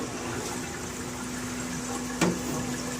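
Water flows from an aquarium overflow box into a tub, splashing steadily alongside a low constant pump hum, with a brief louder splash near the end, in a stingray tank system.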